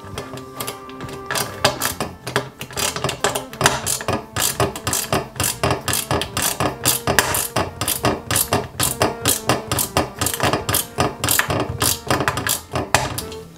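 Screws driven into the chassis of a 1/8 scale Volvo Amazon 122s model car kit, a dense run of rapid clicking, ratcheting mechanical strokes, loud and close, continuous with no pauses and no talk.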